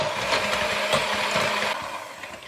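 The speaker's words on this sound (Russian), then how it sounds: "теперь сюда я добавляю сахар и хорошенько взбиваю желтки вместе с сахаром" Egg yolks are beaten with sugar in a bowl for a chocolate sponge cake. A close, continuous whirring rattle with uneven scraping runs throughout, with no voices.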